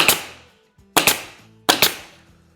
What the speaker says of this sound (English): all we do is take our nail gun